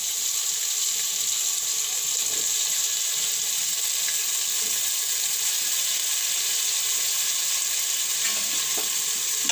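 Potatoes fry in a hot pan for a sweet potato curry, giving a constant bright sizzling hiss with occasional faint clinks, steady and close with no talking.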